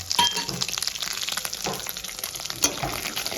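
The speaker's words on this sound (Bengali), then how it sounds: "এই তেলের মধ্যে আমি গোটা জিরে আর তেজপাতা ফোড়নে দিয়ে দেবো" Whole cumin seeds and bay leaves frying in hot oil left over from paneer, a steady soft sizzle with a few light clinks from a utensil against the pan.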